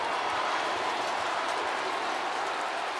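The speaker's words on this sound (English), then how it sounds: "Crowd comes alive." A baseball stadium crowd at a Padres vs Cardinals game roars in a steady, broad wash of cheering and noise that holds loud for a few seconds.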